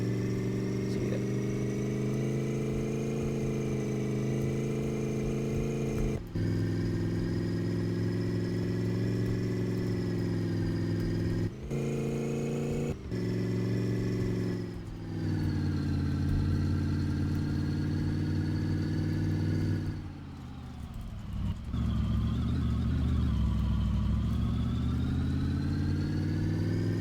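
A Dodge Challenger engine drones steadily while driving, holding a constant pitch with several brief dips and shifts, loud and close, with no talk.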